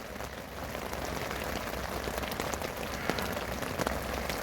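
Rain falling on a rainy morning, a dense, even patter of drops on surfaces, steady and fairly soft throughout with no voices.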